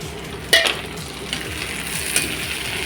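Tomatoes sauté in a pan for mutton curry, a low frying sizzle under a few clinks of a spoon against the pan, close by with no voices.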